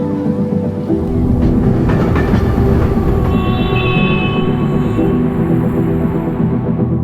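A train rumbles past in a bass-boosted edit, a loud, thick low roar with rattling wheel noise, holding steady for several seconds as a thin high metallic squeal rises near the end.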